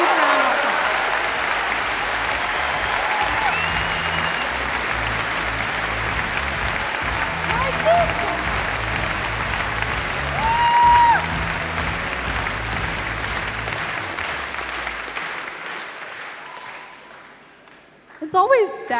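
A large convention audience at MineCon 2012 applauds steadily for about fifteen seconds, a broad sustained wash of clapping that fades out near the end before a brief louder burst.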